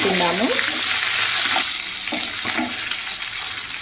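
Tomatoes and curry leaves going into a hot pan with ground spices give a loud, close hissing sizzle that opens sharply and then settles into a steady, slightly quieter spatter with a few stirring knocks.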